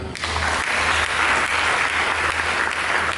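A church congregation claps together during a sermon, a dense, loud, continuous burst of applause with a low hum underneath, steady throughout.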